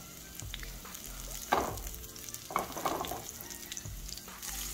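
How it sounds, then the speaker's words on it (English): Grouper sizzles steadily in a hot buttered pan, a constant crackling hiss with a couple of louder spitting bursts as it settles. "Just listen to her sizzle."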